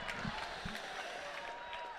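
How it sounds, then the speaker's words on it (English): Basketball crowd in the stands at a girls' final, a faint, steady roar of cheering and noise with a couple of short thuds, heard at a distance. "the Te Araha crowd up in the stands, making lots and lots of noise"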